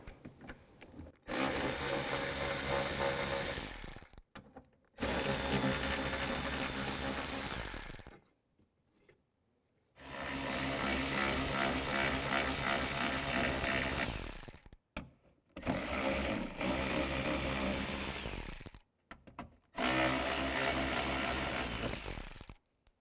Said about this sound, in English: use the same 10mm socket, take the screws out